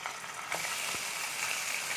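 Chicken frying in sunflower oil in a pan at home, a continuous bright sizzle and crackle with a few soft clinks and scrapes, steady and close with no talk.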